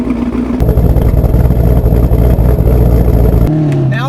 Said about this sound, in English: even in the exhaust there in the back, that idle, it just sounds so mean and aggressive